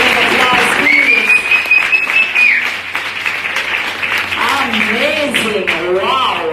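An audience at a dancehall event applauds with steady clapping while whoops and cheering voices rise over it, with a sustained shout near the start and lively vocal reactions later.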